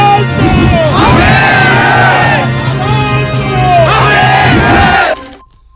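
Exam candidates protesting in the street over a leaked, cancelled exam shout slogans together in loud, rhythmic unison bursts, a dense crowd roar that rises and falls before cutting off abruptly.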